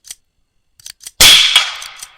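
A single sharp rifle shot is fired at a target 100 yards away while hunting, a loud, close crack with a short ringing decay, preceded by a few faint small clicks.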